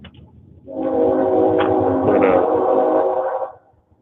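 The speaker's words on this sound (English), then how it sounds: "Freight train going by. yeah, there's tracks." A freight train goes by on nearby tracks, its horn sounding one long, loud, steady blast for about three seconds before cutting off.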